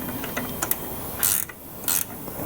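A ratchet tightening a bolt during a Mazda 3 clutch replacement clicks in short, close bursts, with a few quick pawl clicks and then two longer rapid ratcheting runs, with no talking.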